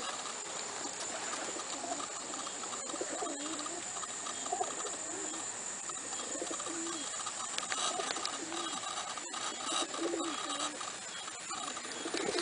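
Soft cooing of a flock of satinette pigeons over faint outdoor noise, low repeated coos scattered throughout, fairly quiet and somewhat distant.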